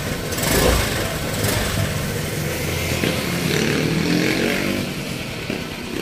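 Honda Click 125i scooter engine running steadily just after being started, a close, loud, continuous idle hum with faint rattle and no talking.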